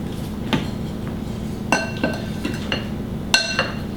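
Steamed zucchini tossed gently with dill in a bowl, giving a few sparse, sharp clinks of a utensil against the dish over a soft background hiss, close and with no talking.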